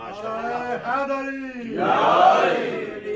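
A crowd at a religious gathering chants slogans in unison: a single voice calls out first, then many voices answer together in a loud, swelling roar that fades gradually.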